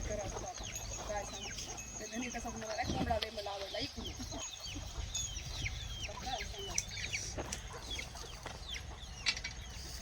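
Repeated clucking from a free-range village rooster and other fowl, close and irregular, with birds chirping and people talking quietly in the background.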